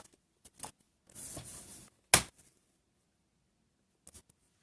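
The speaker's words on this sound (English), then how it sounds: "So I'm going to cut this piece down." Scissors slice through a piece of paper in a quiet craft room: a short rustling cut, then one sharp, loud snip, with a brief faint rustle near the end.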